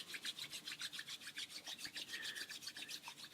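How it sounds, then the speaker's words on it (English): Palms rubbed briskly together to build warmth during a guided relaxation, a steady rhythmic swishing of skin on skin, close and soft, about a dozen quick even strokes with no talking. "We're going to rub our palms together and create some heat."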